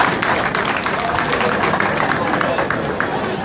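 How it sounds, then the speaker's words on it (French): An audience applauds at the closing ceremony of a festival in francophone Africa, a dense, steady patter of clapping layered over crowd murmur and babble. "je vous demande de les applaudir aussi"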